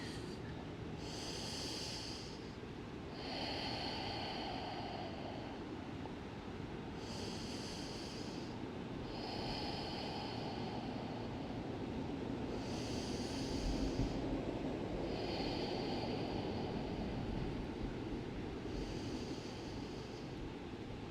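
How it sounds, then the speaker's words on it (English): Slow, deep breaths during a power yoga session, each inhale and exhale a soft airy rush repeating every few seconds over a steady background hiss, close and fairly quiet with no talking. "Two more generous breaths here"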